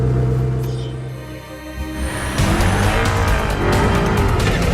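A Koenigsegg One sports car and a Volvo FH truck rumble close by, then surge sharply louder as they accelerate hard, with a rising roar and tire noise.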